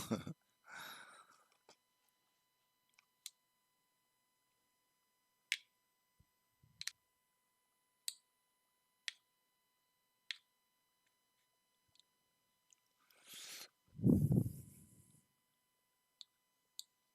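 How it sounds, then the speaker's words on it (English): A string of sharp, isolated clicks, about a dozen spaced roughly a second apart, fairly faint in a quiet room, with a brief breathy voice sound near the start and another toward the end. "for those of you who are watching and you're wondering what the clicking sound is"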